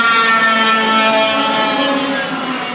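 A racing kart with a noisy exhaust runs down the main straight at a Clay Pigeon Kart Club championship round. Its engine makes a loud, close, steady high-pitched drone that eases slightly toward the end.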